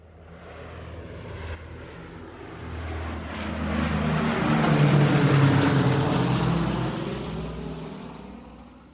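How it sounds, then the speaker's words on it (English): An airplane passes overhead, its engine roar swelling steadily to a loud peak in the middle and then fading slightly, with no talking. "Back on the plane. Now we're heading back to Melbourne."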